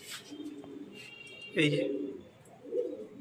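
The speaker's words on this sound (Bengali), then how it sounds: "কিছু মালবাহী পায়রা আছে দাদা" Racing pigeons cooing inside a loft, low throaty coos rising in a couple of swells, close by with someone speaking briefly over them.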